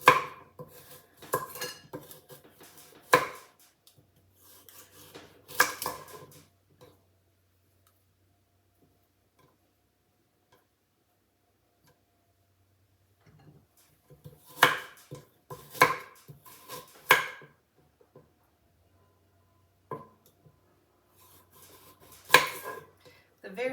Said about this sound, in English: We're going to cut these at an angle.